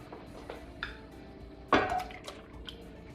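Spanish tortilla mixture of egg and potato tipped into a hot pan on medium heat, a sudden wet splat and sizzle after a few light clinks and drips, nearby and moderately loud.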